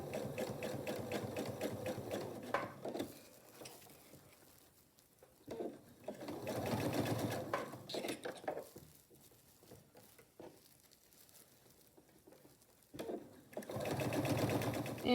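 A domestic sewing machine runs in three loud bursts of stitching, sewing elastic onto a fabric wine cozy, with quieter handling and pauses between runs.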